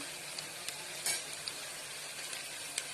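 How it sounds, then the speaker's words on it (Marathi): Ginger-garlic paste sautés in a pan for a ghosala and chana dal bhaji, giving a steady, moderately quiet sizzle with a few small crackles and pops throughout. "चांगला परतून झालं की अर्धा चमचभर आलं लसूणची पेस्ट घालायची"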